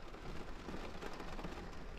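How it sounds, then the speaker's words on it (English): Rain falls on a parked van on a cold, miserable day, a faint, steady wash of patter and hiss with no breaks and no voices. "Pretty cold and just rainy and miserable."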